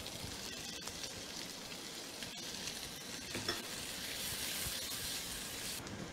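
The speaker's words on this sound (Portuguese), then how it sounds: "Agora que o alho já dourou, eu vou entrar com a cebola." Chopped onion fries with browned garlic in a pan, giving a dense, steady crackling sizzle with a few stirring knocks, fairly faint and with no voices.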